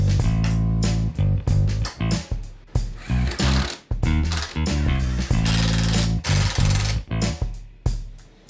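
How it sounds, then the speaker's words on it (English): A power drill drives pocket screws into a wooden table saw extension, loud and close, with repeated whirring bursts and ratcheting stops in quick succession. "I'll just attach this with pocket screws."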